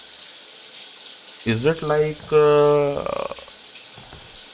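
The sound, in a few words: water running, like a shower, in a horror short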